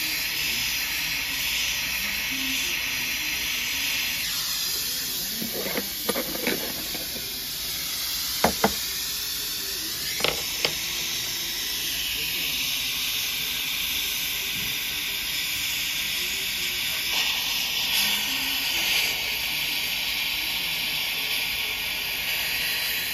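Oxygen-fed torch flame burning hot while melting a large amount of gold in a small cast iron skillet, a steady roaring hiss throughout with a few sharp knocks and clatters midway.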